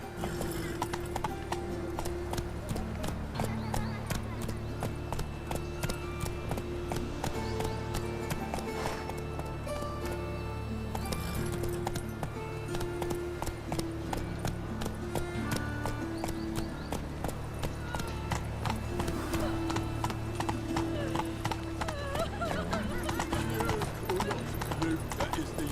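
Roach the horse gallops in The Witcher 3, with rapid, steady hoofbeats running the whole time beneath a continuous backing score, an occasional whinny breaking through.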